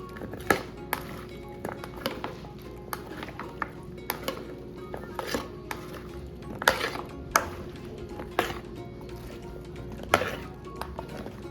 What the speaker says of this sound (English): keep mixing until all the vegetables are covered